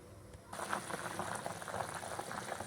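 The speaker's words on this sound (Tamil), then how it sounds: "எல்லாம் நல்லா சேர்ந்து தளன்னு கொதிக்குது." Nonbu kanji rice porridge boiling in a pot, a steady close bubbling and gurgling that swells up suddenly and continues evenly, with no talking.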